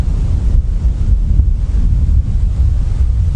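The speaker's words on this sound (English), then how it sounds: "that's a gust of wind has just come through now" Steady roaring gust of wind buffets the microphone outdoors on an evening safari drive, a continuous low rumble that holds loud for the whole stretch with no voices.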